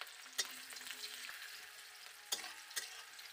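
Chopped onions sizzle in hot oil with toasted mustard seeds while cooking poha (flattened rice pulao) at home, a soft steady frying hiss punctuated by a few sharp clinks and scrapes of a spoon against the pan.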